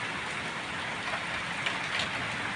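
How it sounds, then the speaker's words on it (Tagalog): Large hailstones pelt down in a steady, dense clatter, a continuous broadband patter with scattered sharper hits and no voices. "Ang lalaki ng bagsak ng yelo."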